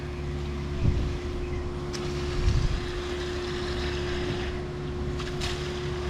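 A new Mud Demon concrete pump's engine runs at raised throttle, a steady, loud mechanical drone with a constant hum and a couple of brief knocks near the start.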